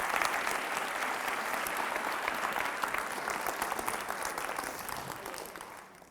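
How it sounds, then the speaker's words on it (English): A room full of people applauding steadily at a school leadership speech, a dense wash of clapping that holds strong throughout and tapers off slightly at the very end. "Round of applause for Hannah."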